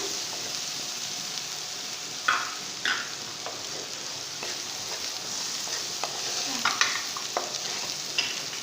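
Masala with turmeric and salt being stir-fried in a pan for white chickpea chaat, a steady sizzle broken by scraping spoon strokes and occasional clinks against the pan, close and clear with no talk.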